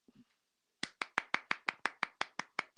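One person claps in a steady rhythm on a talk radio show, about eleven sharp, evenly spaced claps close to the microphone after a brief murmur.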